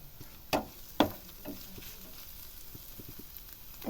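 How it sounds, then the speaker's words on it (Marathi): Onions sautéing in oil in a pan for a Marathi-style pea and potato curry, a low steady sizzle broken by two sharp spatula scrapes and soft stirring clicks, close and fairly quiet with no voices. "इथं आपला कांदा चांगला व्यवस्थित परतून झालेला आहे"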